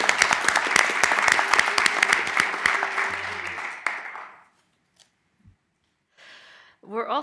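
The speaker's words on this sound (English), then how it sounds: "Let's give him a round of applause anyways." A room full of people applauding an absent honoree, with dense, even clapping that holds for about four seconds then fades out, followed by near silence and a brief voice.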